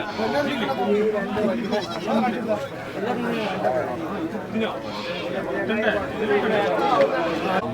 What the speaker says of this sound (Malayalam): ഈ ഒരു കുറേ ആടുകളുണ്ട്